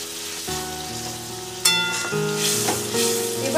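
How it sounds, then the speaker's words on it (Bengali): Ingredients for a chicken dish sauté in a hot pan, giving a continuous close sizzle that swells louder partway through, with a faint steady tonal hum underneath. "এটা আমার আরেকটু কষানো হোক।"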